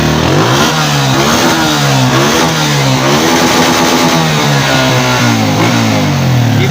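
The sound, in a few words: Honda CG125 1993 motorcycle engine revving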